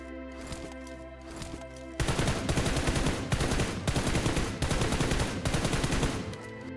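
Rapid gunshots in PUBG Mobile aim training at targets, loud bursts of automatic fire in repeated clusters with brief gaps between them, close and punchy after a quieter lead-in.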